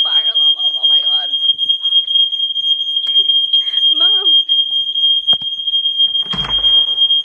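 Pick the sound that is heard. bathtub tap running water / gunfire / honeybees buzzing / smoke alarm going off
smoke alarm going off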